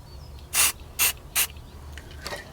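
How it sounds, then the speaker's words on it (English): Three short bursts of hissing black spray paint from an aerosol can onto metal, close by, followed by a couple of fainter, brief hisses. "I'm going to put just a little dab of black spray paint over that"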